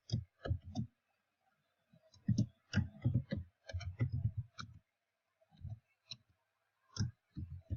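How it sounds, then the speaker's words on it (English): Computer keyboard keys are tapped in quick clustered bursts with brief pauses between, crisp and close in a quiet room, with no talking. "I'm going to type them all out for you."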